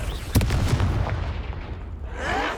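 A Confringo fire-blast spell in the video game Hogwarts Legacy bursts with a loud, booming impact, followed by a rumbling decay and a faint whoosh trailing away.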